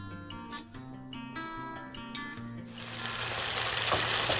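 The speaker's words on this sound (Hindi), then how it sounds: "तो अब सबसे पहले हम ऑयल में चिकन को फ्राई करेंगे।" Chicken drops into hot oil with capsicum, and a dense, loud sizzle swells up in the second half after a stretch of steady tonal sound.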